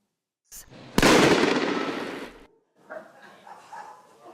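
A plastic soda bottle loaded with dry ice bursts in a sharp, loud blast whose roar decays over about a second and a half, followed by quieter rumbling and crackling.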